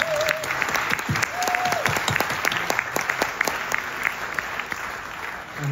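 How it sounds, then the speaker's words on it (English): Festival audience at Sidmouth Folk Festival applauds the sound engineers with sustained, lively clapping and a few whoops rising above the crowd, steady and fairly loud throughout. "Please give them a round of applause."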